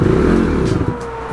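A KTM 390 Duke motorcycle engine runs close by with a rough, steady revving drone and some mechanical clatter, slowly easing off over a short moment with no talk.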